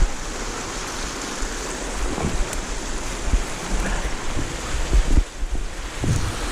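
Water rushing out of the outfall pipe on Armageddon Creek, a broad, steady roaring wash with gusty rumbling, loud and continuous with occasional thumps and no talking.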